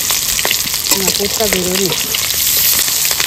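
Food frying in oil in a home kitchen, a steady close hiss and crackle running throughout, with a voice talking briefly over the sizzle.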